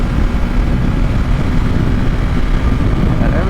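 Honda Rebel 300 motorcycle at highway speed with the throttle held open, a loud steady engine drone mixed with heavy wind rush, continuous and close throughout with no talking.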